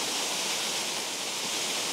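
Benton Falls roars in a constant, dense wash of rushing water, loud and unbroken with no other sounds.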